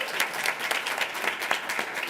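Audience applause at a school board meeting, honoring a student and his parents: steady, moderately distant clapping from a seated crowd, dense and even throughout with a few sharper individual claps standing out.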